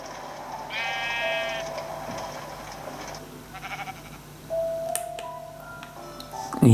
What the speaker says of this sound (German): Schaf, geh weg.